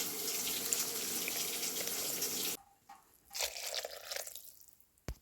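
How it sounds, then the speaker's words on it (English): A kitchen tap runs as water is poured for a slow-cooker black bean chili, a close steady rush that cuts off abruptly, followed by a few short splashes and a final trickle. "And then we're going to add our water."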